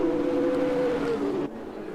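F2 single-seater racing car engines in a sim racing game at Spa-Francorchamps, heard as a sustained droning tone that glides slightly in pitch and then cuts off abruptly, the way glitched engine audio does.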